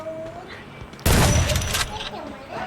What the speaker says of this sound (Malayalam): ഇതാണ് ഏറ്റവും റേഞ്ച് ഉള്ള ഷോട്ട് ഗൺ